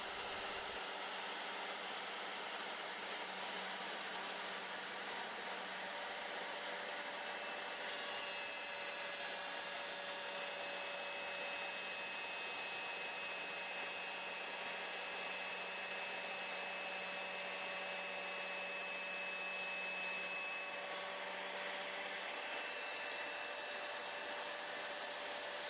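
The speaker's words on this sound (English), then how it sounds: "Allow the saw to reach full speed and then slide it into the workpiece." A GMC laminate saw runs at full speed and cuts through a workpiece, giving a steady high motor whine with a faint cutting tone that holds almost unchanged for the whole stretch, fairly quiet and alone.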